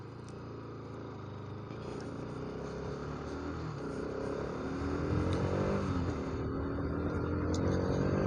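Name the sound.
Bajaj Pulsar RS200 motorcycle engine riding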